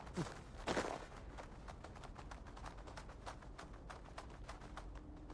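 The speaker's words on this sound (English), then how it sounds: "this was the sound of the birds" Soft pigeon-like cooing sounds faintly at the start of a scene in the video game Assassin's Creed Valhalla, followed by a quiet run of regular footsteps or tapping clicks.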